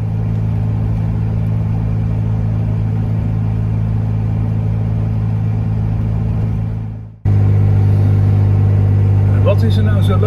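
A Dutch microcar (brommobiel) driving through the polder, its steady low engine drone and road rumble continuous and close, cutting out briefly before resuming with the same hum.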